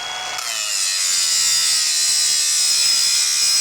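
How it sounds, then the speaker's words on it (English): Milwaukee cordless angle grinder fitted with a Ferret Clearview wheel bites into metal, a loud, steady high-pitched grinding screech that holds without pause. "With the right grinder wheel on it, such as this one from Ferret, the Clearview, these ones eat the metal."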